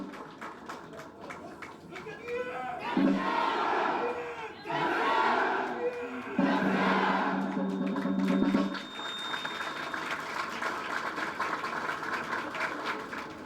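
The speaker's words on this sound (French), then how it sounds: "sous vos applaudissements, ils vont repartir" A crowd at a police graduation ceremony in Haiti cheers and shouts in swelling bursts, with applause and crowd noise continuing between them.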